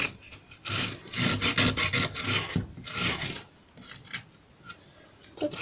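Hand sanding of wood pieces for a log and firewood bandsaw box, steady rasping scrubbing strokes in bursts at close range, pausing briefly near the end.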